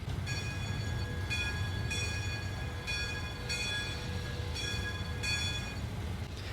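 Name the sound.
locomotive bell of UP 844 in the video game Trainz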